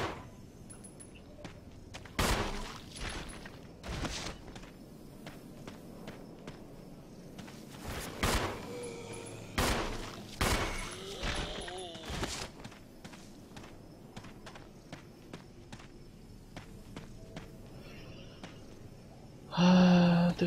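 Sparse single pistol shots fired at zombies in Resident Evil HD Remaster, a handful of sharp isolated cracks spaced seconds apart over quiet ambient game atmosphere, with footsteps between them.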